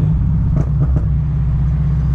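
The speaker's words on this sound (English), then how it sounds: "Oh, that's his car." A car engine rumbles loudly and deeply in Colorado traffic, a constant close low drone with a few brief rises.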